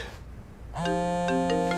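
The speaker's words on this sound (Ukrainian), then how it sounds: "О, моя дзвонить." A mobile phone ringtone starts abruptly after a quiet moment and keeps playing loud and close, a bright synthesized melody with sustained tones.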